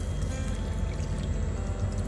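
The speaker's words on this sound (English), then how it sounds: "Put some water here." Water is poured into a cooking pot, a soft, steady splashing stream close by and fairly quiet, running continuously without talk.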